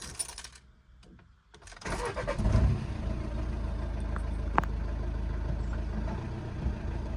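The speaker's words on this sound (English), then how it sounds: "So you can hear the engine is pretty smooth, no rumbling, no erratic idle." A cold Volkswagen TDI diesel car engine, recently repaired after a low fuel pressure fault, starts after a couple of seconds of near quiet and settles into a steady, close idle.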